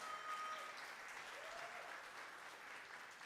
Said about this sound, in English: She deserves her own round of applause